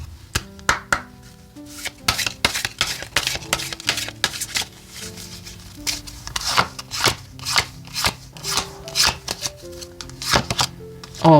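Oracle cards being shuffled by hand, a long run of crisp riffles and flicks in quick irregular bursts, close and clear with no voices over them.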